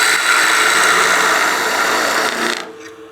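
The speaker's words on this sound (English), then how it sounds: "I'm just riding the back side of the tool here to get those shavings to clear out." A woodturning tool cuts a wooden pot on a lathe, its heel riding the wood to clear shavings, making a loud, steady whirring scrape that fades as the cut stops near the end.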